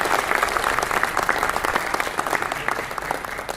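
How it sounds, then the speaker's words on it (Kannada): An audience at an alumni event applauds the organizers: dense, loud, sustained clapping from many hands fills the whole stretch, steady throughout with a slight easing toward the end. "ಅವ್ರಿಗೋಸ್ಕರ ಒಂದ್ಸರಿ ಜೋರಾದ ಚಪ್ಪಾಳೆ"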